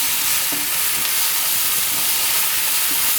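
Onions and fish sautéing with garlic paste in a pan for fish dosa; a brief, steady, close hiss of frying with a few soft stirring taps, no speech.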